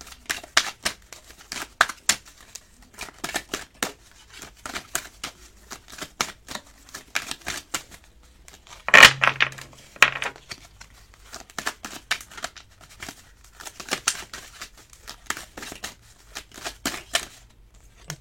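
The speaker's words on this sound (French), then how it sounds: "Une carte," Tarot cards are shuffled and drawn by hand, giving many quick riffling flicks and soft snaps in irregular bursts, close and clear with one sharper slap midway.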